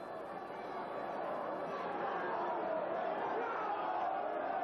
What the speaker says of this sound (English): Late in the match with the home crowd roaring them on.